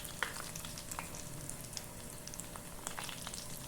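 Savory Brazilian snacks fry in a little oil in a small pan, giving a soft, steady sizzle with scattered faint pops and crackles, quiet and close, with no talking.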